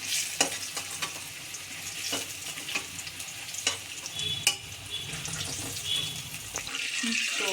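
Potatoes fry in hot oil with a continuous close sizzle, punctuated by several sharp taps and scrapes of a spatula against the pan, no voices.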